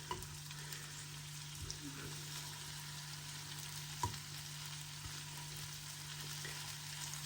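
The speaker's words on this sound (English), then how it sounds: "The bacon is frying up lovely." Bacon sizzles and crackles steadily in a pan, a quiet continuous fry with occasional soft pops and utensil taps.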